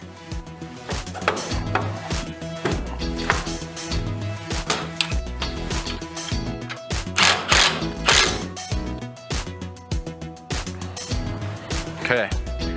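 Ratchet clicking in rapid rhythmic bursts while tightening bolts on an idler assembly of an enclosed belt conveyor, close and loud, with metallic clanks and a person talking in between.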